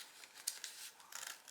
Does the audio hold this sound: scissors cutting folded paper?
yes